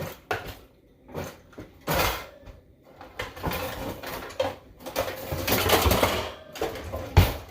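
Rummaging through a kitchen drawer, with rattling, clattering utensils and scraping objects in a series of close, irregular bursts over several seconds.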